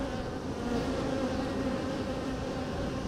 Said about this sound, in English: I'm going kind of quick because the bees obviously aren't happy